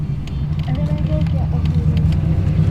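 Well-tuned cars idle and rumble at the Cruz-in 99 car show in Lillooet, B.C., a steady close engine drone heard under people talking.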